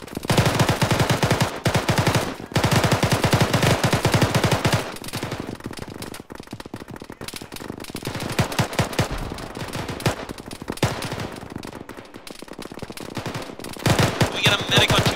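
Rapid automatic gunfire rattles through a jungle firefight in a military shooter game, with dense sustained bursts broken by short pauses. The firing is loud and close and runs for the whole stretch.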